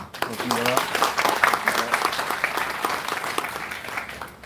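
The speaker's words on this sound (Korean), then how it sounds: "내빈분을 소개할 때마다 큰 박수 부탁드리겠습니다." Audience applause at a high school founding anniversary ceremony, a steady round of clapping from a modest crowd, with an announcer's voice heard over the start.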